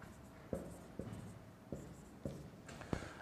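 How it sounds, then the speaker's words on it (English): Writing on a board during a bioinformatics lecture, with five distinct sharp taps and scratches spaced about half a second apart, close and quiet against a low room hiss. "Let me also write them here below."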